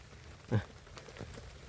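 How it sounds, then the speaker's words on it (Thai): Rain falls on a hut in the forest during a storm, a soft, faint patter of drops with one brief, louder splash early on. "บรรยากาศฝนตกย้อยย้อย"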